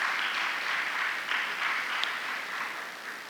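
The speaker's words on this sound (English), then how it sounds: "Let's have a round of applause for all the contestants." Audience members clap for the contestants at a speech competition and awards ceremony, producing a continuous, moderately loud round of applause with slight swells.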